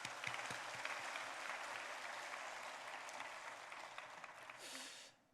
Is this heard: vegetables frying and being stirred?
no